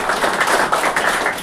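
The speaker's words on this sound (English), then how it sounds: "So a big round of applause for" Audience applause at a school interschool carrom and chess tournament event, a dense, steady wash of many hands clapping at moderate distance throughout.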